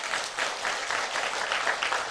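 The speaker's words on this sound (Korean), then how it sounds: "한번 큰 박수 부탁드립니다" A congregation in a church gives a big, sustained round of applause, a dense continuous wash of clapping from many hands that holds steady throughout without any talk.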